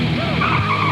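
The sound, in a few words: RC car from Radio Shack skidding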